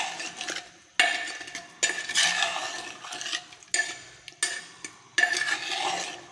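A spoon stirs bhuna gosht meat in a pot, giving five or six scraping, sizzling strokes at a steady rhythm, loud and close with no talking.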